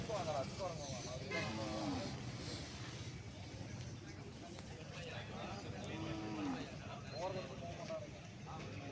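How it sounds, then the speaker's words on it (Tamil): Native cattle at the 2024 Palayakottai cattle fair give low, drawn-out moos amid a busy outdoor market, with crowd voices and chatter running throughout. "இன்று நாட்டு மாட்டு சந்தைக்கு பத்து முப்பது மணி நிலவரப்படி வந்திருக்கக்கூடிய நாட்டு மாடுகள்"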